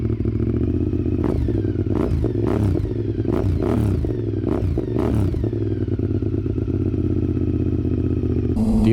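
A Honda RC51 motorcycle engine rumbles under repeated throttle blips, its revs climbing and dropping in quick bursts over a steady idle, with mechanical clatter and no talking.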